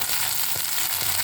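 Curry leaves sizzle in hot oil for sambar, a brief, steady close-up crackling hiss.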